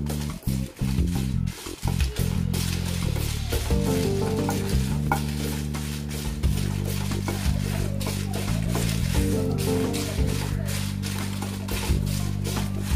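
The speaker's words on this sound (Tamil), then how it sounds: "இப்போ வந்து கடைசியா மிளகாவையும் வறுத்துக்கலாம்" Red chillies being dry-roasted in a pan for idli sambar powder, continuous stirring and rustling scrapes with a light crackle throughout, close and fairly loud, and no talking.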